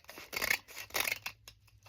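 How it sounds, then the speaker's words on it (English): Scissors snip through the unpadded paper part of an Amazon envelope in two crisp close cuts, followed by a few faint clicks as the blades settle, with no speech. "I'm going to cut this part off that doesn't have any padding"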